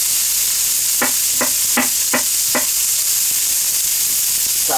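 Stir-fried Spam and sweet corn sizzle steadily in a pan while a spatula scrapes through in five quick, evenly spaced strokes, close and clear with no talking.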